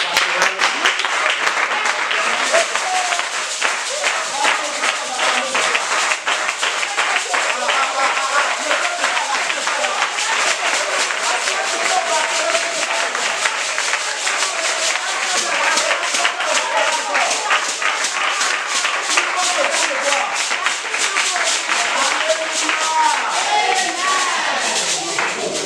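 An audience at an evangelical event in Porto-Novo, Benin applauds to welcome a special guest, dense sustained clapping and cheering from a large crowd, loud and continuous throughout.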